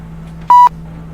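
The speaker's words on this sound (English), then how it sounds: "Sorry about that beeping." A single electronic beep, a clean steady tone lasting about a fifth of a second, sounds loud and alone over a low constant hum.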